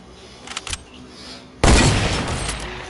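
Fortnite gunfire: a few small pops early, then a sudden loud blast with a burst of shots that lingers and decays, close and forceful.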